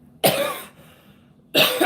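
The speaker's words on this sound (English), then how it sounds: "I'm still coughing" Two harsh, close coughs burst out about a second apart, each a rough raspy blast with a quiet pause between.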